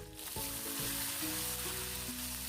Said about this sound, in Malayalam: ഇനി ഉള്ളി ഒന്ന് നന്നായിട്ട് വഴറ്റിയെടുക്കണം.